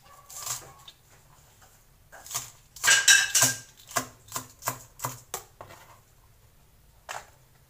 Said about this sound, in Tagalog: Slice mo lang yung dahon ng sibuyas na maliliit.